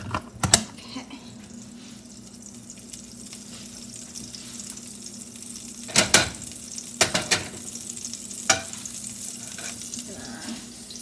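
Butter sizzling in a frying pan while being stirred, a soft steady frying hiss broken by sharp clinks and scrapes of a utensil against the pan.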